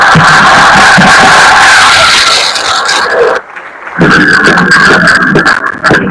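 An audience at a Link Cup finale event claps loudly and steadily, with a brief dip near the middle before the applause surges back, full and close.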